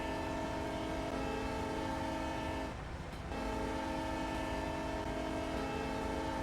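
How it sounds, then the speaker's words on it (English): A GP9 diesel locomotive pulling a local train in the Train Sim Pro USA game, a sustained steady horn-like drone with continuous rumbling underneath, briefly dropping out for a moment before resuming. "So that's the GP9 that runs the local trains."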